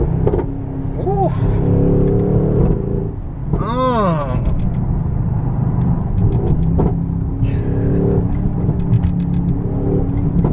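A Mercedes-AMG GLE 63 S Coupe SUV with a loud exhaust rumbles nearby, rising in brief revving sweeps and dropping back to a deep idle, while people talk and exclaim over it throughout.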